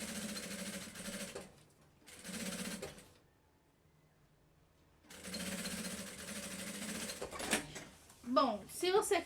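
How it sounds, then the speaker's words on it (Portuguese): A sewing machine stitches the bottom seam of a party trunk bag at a half-centimetre margin, running in steady close bursts with a pause between them, while someone talks over the stitching. "E vou costurar esse meu fundo com uma margem aqui de meio centímetro, que é a margem do meu pé calcador"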